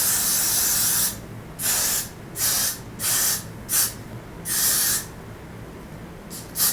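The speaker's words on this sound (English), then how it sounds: "Then I like to spray it all along my hairline." Hairspray hisses in a series of short bursts along a lace wig hairline, with one long opening spray and then about seven quick, evenly spaced pumps, close and fairly loud with no talking.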